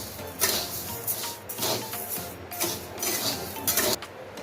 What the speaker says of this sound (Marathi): आता शेवट तांदूळ भाजून घेऊया। तांदूळ सुद्धा व्यवस्थित भाजून घेऊया